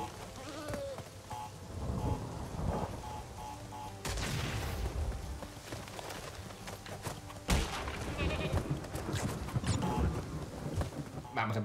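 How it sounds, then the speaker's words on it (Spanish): Goat bleating in Crash Bandicoot 3: Warped, heard over loud, busy game music and effects, with a few sharp bangs breaking through and no voice on top. "Esa cabra es un poco rara"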